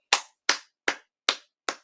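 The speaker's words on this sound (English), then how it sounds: "And I clap my hands, tip my hat, and salute them." Hands clapping five times at an even, steady pace, each clap a sharp, crisp smack with a brief decay, close and isolated against silence.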